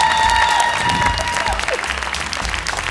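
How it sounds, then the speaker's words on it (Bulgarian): A crowd at the Miss Bulgaria pageant claps loudly, a dense burst of applause that gradually thins and fades over a few seconds. "Дами и господа, аплодисменти за Мис България 2012!"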